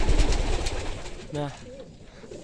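Young domestic pigeons, a first brood of squabs, cooing in an outdoor loft in cold weather, a soft throaty coo rising near the middle over a rustling background, with a brief spoken word at the start.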